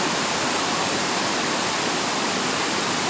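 Waterfall in Valencia, Philippines, a dense, steady roar of falling water, loud and unbroken, with no voices.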